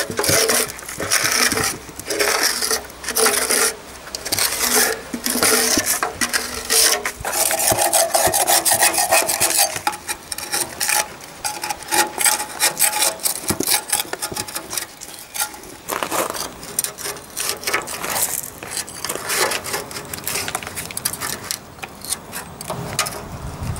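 Rust is scraped off the chassis of a 1954 Panhard Junior in long bursts of harsh metal-on-metal rasping and rubbing, loud and close with brief pauses between strokes.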